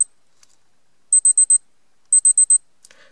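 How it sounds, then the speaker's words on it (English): The alarm tone of a Casio G-Shock GW-B5600 digital watch: two bursts of four quick, shrill, evenly spaced beeps separated by a short pause, thin and clear against near silence. "So what does the alarm sound like?"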